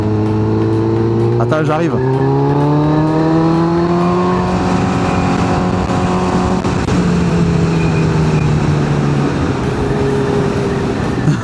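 A Zontes 125 motorcycle's engine rises steadily in pitch as it accelerates on a country road ride, loud and close, with a voice speaking briefly over the engine.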